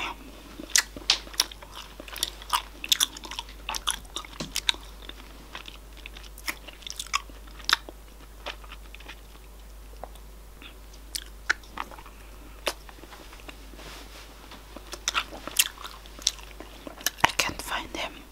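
Close-up chewing and biting of caramel fudge, with sticky, irregular bites and crunchy clicks spread across the stretch, quiet whispering in between.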